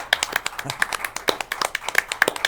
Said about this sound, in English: A round of applause for James